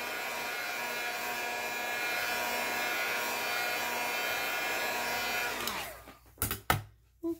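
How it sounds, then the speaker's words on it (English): A heat gun drying chalk paint on a DIY faux stone, concrete-effect piece blows a steady, loud airy whir for about six seconds, then cuts off, followed by a few brief knocks and handling sounds. "I like using my heat gun"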